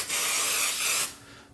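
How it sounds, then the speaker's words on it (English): A single second-long burst of coconut oil cooking spray hissing from an aerosol can, close and fairly loud, then quickly cutting off. "We're gonna grab some coconut oil, spray it far away."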